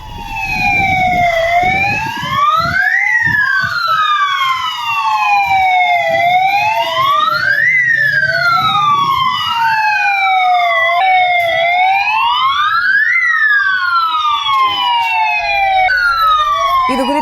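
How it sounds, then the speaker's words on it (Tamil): A security alarm at an Indian Overseas Bank branch wails loudly and continuously, its rising and falling siren sweeps repeating every few seconds in layered overlapping tones, close and piercing. "இந்தியன் ஓவர்சீஸ் வங்கியை திறப்பதற்கு முன்பாகவே அபாய எச்சரிக்கை ஒலி நீண்ட நேரமாக ஒலித்ததால் பரபரப்பு ஏற்பட்டது"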